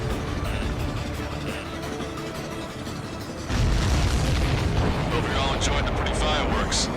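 Explosions from the combat flight video game Ace Combat 7 rumble as deep booms, swelling into a louder, sustained roar midway, with game radio chatter over them.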